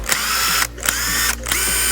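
A cordless rattle gun does up bolts on a van. It gives two or three loud, close bursts of rapid, rattling hammering with brief gaps between them.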